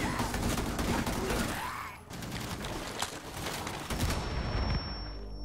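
Dense rapid gunfire from a gun in Rainbow Six Siege crackles continuously and loudly, with sustained bursts filling the scene and a brief lull midway before the shooting resumes.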